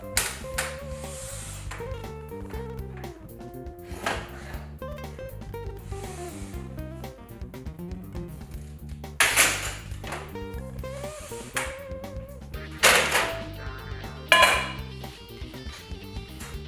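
Rubi manual tile cutter scoring and snapping a thick terrace tile cut diagonally, heard as scraping glides and several sharp cracking snaps amid ringing clatter, close and fairly loud.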